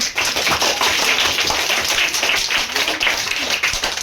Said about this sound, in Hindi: सभी बच्चे ताली मार देंगे।